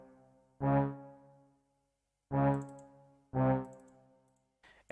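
Three separate swelling brass-instrument chords with a short, low release in an FL Studio song remake, each sounding alone with pauses between and fading quickly, then a brief faint noise at the end.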